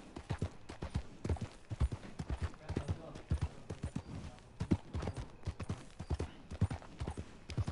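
Horse galloping in the video game Red Dead Online, rapid rhythmic hoofbeats thudding close and fairly loud, with a voice talking over part of it.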